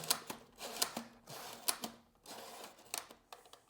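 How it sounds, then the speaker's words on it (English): A series of sharp mechanical clicks and ratcheting snaps as a camera shutter is cocked, close and crisp, with quiet gaps between them. "Well, I charge the shutter here."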